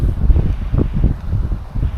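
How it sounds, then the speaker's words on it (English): Strong all-night wind in a ghost town in Columbia, California, rumbling continuously in low gusts against the microphone, close and loud with no talk. "It's just this all-night wind that blows, unlike every other night that I've been here."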